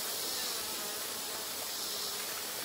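Honeybees crowd around a pollen patty inside a Langstroth beehive, a dense, steady buzzing hum close up and continuous, with no voices.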